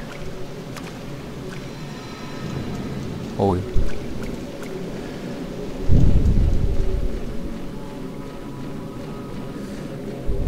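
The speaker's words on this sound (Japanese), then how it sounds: "これでも雨降ってるから意味ないんだよね" Steady rain pours in the haunted setting of Fatal Frame: Maiden of Black Water, with a sharp crack and a deep rolling thunder rumble partway through, and someone briefly speaking over the downpour.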